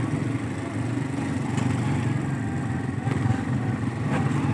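Motorcycles on a mountain road near Sudhan Gali in Bagh, Azad Kashmir, give a steady, close low engine drone with a rough, throbbing rumble and slight swells in loudness.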